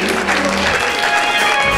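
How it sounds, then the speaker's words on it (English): A church congregation claps loudly in praise, a dense wash of hands close and continuous across the whole short stretch. "Give the Lord a hand clap of praise"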